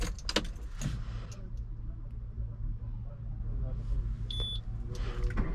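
Peugeot 307 being started: keys jangle at the ignition, a low engine rumble holds steady throughout, and a short electronic dashboard beep sounds near the end.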